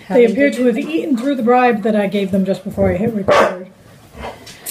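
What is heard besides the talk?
dogs barking in the background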